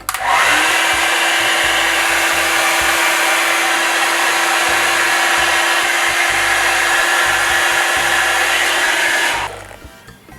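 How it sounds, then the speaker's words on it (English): A hair dryer roars loudly at full power for about nine seconds, a steady close whine and rush of air, then cuts off abruptly. "Let's see if they pass the hairdryer test. So here we go, I'm gonna put it on the highest setting."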